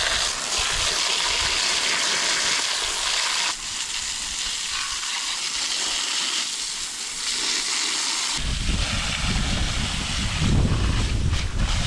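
Wind gusts outdoors buffet the microphone with loud, rumbling roars that rise and ease in several waves over twelve seconds, with no one talking.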